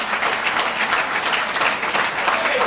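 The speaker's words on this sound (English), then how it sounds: "Let's give our FOI a well-deserved round of applause" Audience applause for FOI members at a Nation of Islam mosque gathering, a dense, steady wash of clapping from a crowd filling the whole stretch at even loudness.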